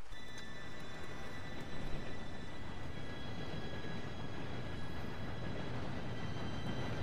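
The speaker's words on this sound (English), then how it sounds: "Train should be here any minute now." An approaching train in Red Dead Redemption 2, heard as a steady, broad rumble and rattle of rolling wheels with faint high tonal whine, continuous and fairly distant, with no talking.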